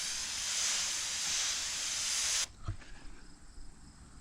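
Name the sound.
spray bottle misting HydroSilex coating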